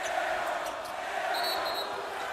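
Basketball dribbled on a hardwood court during an NCAA men's game, Cornell versus Virginia Tech, a few bounces heard under steady crowd noise in a large arena.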